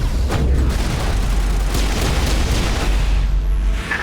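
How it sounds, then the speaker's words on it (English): A rocket explosion in Mass Effect, a loud, sustained booming roar with heavy low rumble and crackling debris filling the whole stretch, then tailing off slightly at the end. "Rockets are OP in this game."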